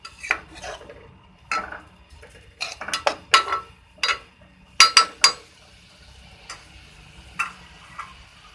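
A spoon stirs sour-sweet plum chutney with sugar in a cooking pot, producing irregular close clinks, taps and scrapes against the metal with short pauses between them.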